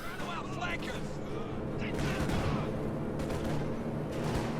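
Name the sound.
P-47 rocket strafe attack in video game Company of Heroes 2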